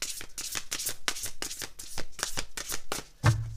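Tarot cards handled and riffled in repeated quick shuffling bursts, close and fairly quiet, with a soft thump near the end and no talking.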